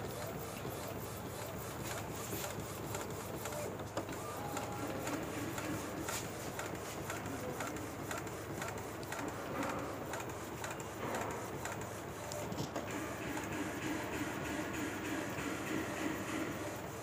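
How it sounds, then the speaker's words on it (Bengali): A DTF printer running while printing on cloth, a steady mechanical hum and whirr with faint rubbing and clicking textures, continuous and moderately close, with no talking. "খুব চমৎকার প্রিন্ট হচ্ছে, ভালো প্রিন্ট হচ্ছে"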